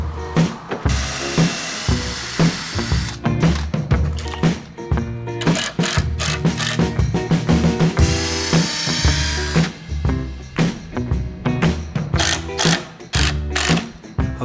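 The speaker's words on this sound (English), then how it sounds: "I'm just gonna screw it together now," Parts of a build in a barn recording studio being screwed together with a power driver: repeated loud bursts of whirring and ratcheting, one after another at close range, with no talk.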